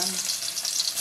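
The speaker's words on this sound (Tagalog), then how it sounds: "So, ilalagay ko na po ang bawang." Garlic going into a hot pan for pork adobo, giving a loud, even sizzle that holds steady for a moment, close up and without talking.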